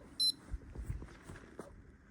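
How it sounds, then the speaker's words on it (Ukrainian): A short, bright electronic beep sounds once near the start, then only faint low rustling and quiet background noise follow. "Тепер пікає."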